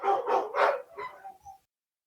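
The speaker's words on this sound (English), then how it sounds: "I apologize for my dogs if you heard them in the background" A few pet dogs barking in a quick burst of four or five yips and barks, fairly close and moderately loud, then silence.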